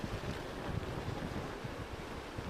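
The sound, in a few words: strong wind gusts from tropical storm on the coast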